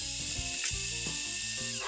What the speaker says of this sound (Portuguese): Agora faz barulho a batedeira